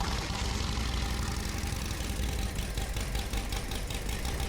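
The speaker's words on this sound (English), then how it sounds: "Number 1, Flathead engine." A Harley-Davidson Flathead engine runs steadily and loudly up close, a dense continuous rumble with a faint knocking texture and no pauses or voices.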